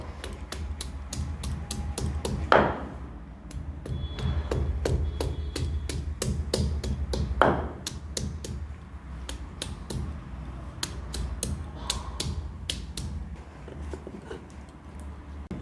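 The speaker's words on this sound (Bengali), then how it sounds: "আদা রসুনটা ভালোভাবে বেটে নেবো" Ginger and garlic ground into a paste on a stone for a Bengali red lentil dal, with ground cumin and coriander already on the stone, making steady rhythmic scraping and knocking strokes, close up, with a couple of sharper thuds.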